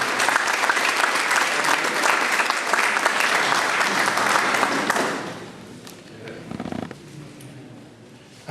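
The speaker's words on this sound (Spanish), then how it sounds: "quisiera que demos un fuerte aplauso al maestro Francisco Gómez Valdés por su obra." Loud, dense audience applause fills an academic hall for Francisco Gómez Valdés, sustained for about five seconds before dropping to scattered claps and quiet room noise.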